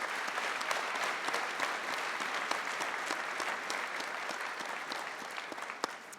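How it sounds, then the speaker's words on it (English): Steady, dense applause from a large audience fills a convocation ceremony hall, even and sustained from start to finish with no talking over it. "I believe they deserve a round of applause."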